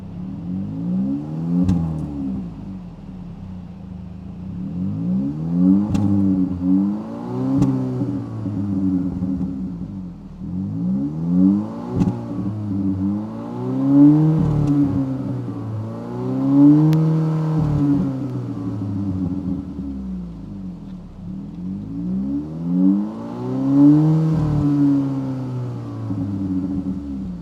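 A 2025 Kia K4 GT-Line's 1.6-liter turbocharged four-cylinder engine revs repeatedly, rising and falling in pitch in steady pulses, loud and close with a constant rumbling idle between.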